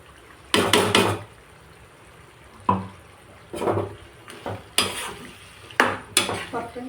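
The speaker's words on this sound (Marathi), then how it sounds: "परतून घेऊ छान." Hyderabadi green chicken sizzles with masala in a pan while a spoon stirs it in bursts, producing repeated scraping and clattering strokes with quieter sizzling gaps between, close and alone.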